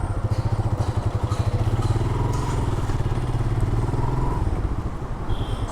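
A motorcycle rides through a Dhaka street in Bashundhara residential area, its engine thumping in a fast, steady pulse close to the microphone, loud and continuous with some clattering and no talk.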